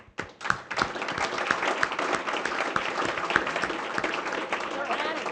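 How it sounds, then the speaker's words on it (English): Applause at an award event for a pitch competition, with a room of people clapping steadily after a brief voice at the start, with some talk or cheering mixed in. "I think you guys collectively and gals really deserve an applause for what you've done"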